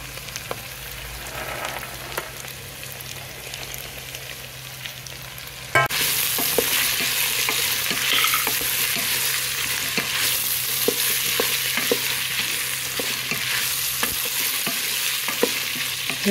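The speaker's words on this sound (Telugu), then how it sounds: "ఇవి కూడా వేయించేసుకోవాలండి." Carrots, potatoes, peas, beans and meal maker fry in a Geek Robocook, a constant sizzle that jumps louder partway through, with scattered stirring clicks and scrapes close by and no talking.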